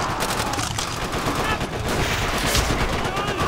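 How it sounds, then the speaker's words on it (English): Dense, continuous machine gun fire in a World War II battle on Makin Atoll in Call of Duty: World at War, loud and unbroken with overlapping bursts of gunfire throughout. "Keep on that MG!"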